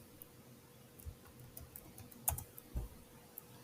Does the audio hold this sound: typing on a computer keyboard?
yes